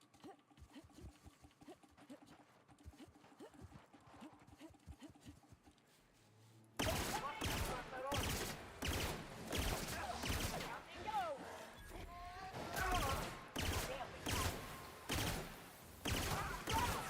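Rapid bursts of cowboy-style gunfire in The Outer Worlds, a loud sustained fusillade of repeated shots after a quieter stretch of mechanical clatter, with game sounds layered throughout.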